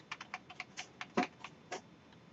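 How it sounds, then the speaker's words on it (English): Keys clack on a computer keyboard running MS-DOS and Windows 1.01, a short burst of about a dozen crisp, close taps at an uneven pace with one louder keystroke near the middle. "the keyboard's a little slow, so things I type get a little bit out of sync"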